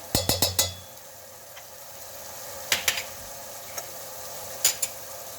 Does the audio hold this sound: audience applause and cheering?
no